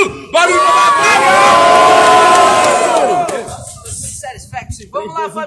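A large crowd at a freestyle rap battle roars and cheers loudly for about three seconds, then fades into scattered shouts and voices.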